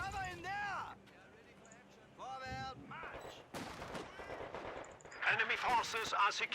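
Bursts of rapid gunfire and explosions from the video game Company of Heroes 2, loud close volleys coming in several separate waves, with someone talking in between the shots.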